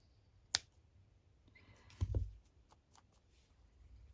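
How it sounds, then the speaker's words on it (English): Quiet snips of scissors trimming yarn: one sharp click, then a short cluster of cuts with faint rustling, close by in a quiet room. "I should be using the other scissors, they're better"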